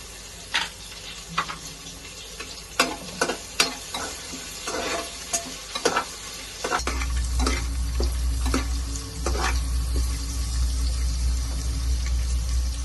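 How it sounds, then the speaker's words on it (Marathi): Ginger and garlic frying in a pan for soybean pulao: scattered sharp clinks and scrapes of stirring at first, then a steady low sizzle of oil takes over, close and moderately quiet, with no talking. "आलं आणि लसूणचा कच्चेपणा पर्यंत थोडस फ्राय आपण करणार आहोत म्हणजे भाजणार आहोत"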